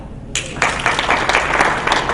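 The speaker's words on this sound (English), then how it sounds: "Doesn't that deserve a clap?" Audience applause breaks out at an HR conference panel on industrial relations, starting abruptly and building into steady, dense clapping from a room full of people, fairly close and sustained to the end.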